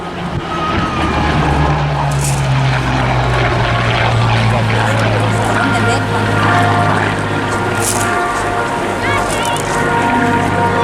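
A WWII propeller fighter from the Battle of Britain Memorial Flight passes at the Eastbourne Airshow 2018, a loud, continuous engine drone with a steady low hum, while a commentator talks over it.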